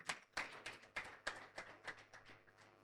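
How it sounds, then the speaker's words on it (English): Sparse, faint applause at a debate competition final, with a few hands clapping in an uneven rhythm of distinct claps and no voices over it. "A round of applause, ladies and gentlemen."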